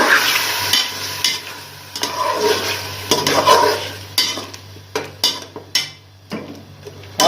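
Tomato paste from two tomatoes goes into chicken frying in a pan for spicy chicken capsicum salan, bringing a loud sizzle, then brisk stirring scrapes that break into separate strokes as the hiss fades.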